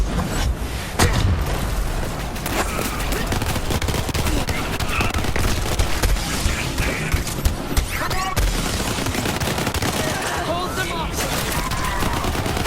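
An SMG beam gun fires in the Borderlands 3 shooter, a dense, continuous stream of rapid shots and explosive booms, loud and close throughout, with a voice talking over the gunfire.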